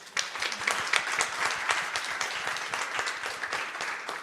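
Scattered applause from a small workshop audience at a scientific meeting, uneven hand claps at moderate volume that continue steadily.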